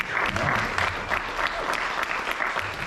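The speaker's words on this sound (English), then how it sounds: "Give yourself a round of applause." A theater audience at a comedy show claps loudly and continuously, dense applause with a few faint voices underneath.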